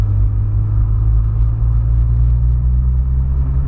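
A car coming the wrong way along the edge of a road, heard as a loud, steady low rumble of engine and tyres that holds level for the whole stretch with no voices.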